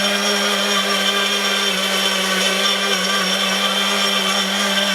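A 3000-watt steel electric spice grinder runs continuously at full power, a loud, steady whirring motor drone with a constant hum and no pauses.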